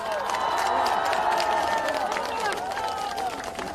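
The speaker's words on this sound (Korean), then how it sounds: "한동훈 총괄선대위원장님을 큰 박수로 맞아주시기 바랍니다." A crowd at an outdoor election campaign rally in Sejong, South Korea, welcomes a campaign chief with applause and cheering, a busy continuous wash of clapping and voices that stays loud throughout.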